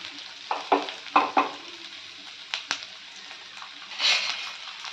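Garlic sizzles softly in a hot pan with butter while a utensil stirs and scrapes with several sharp clinks, then a brief hiss swells near the end.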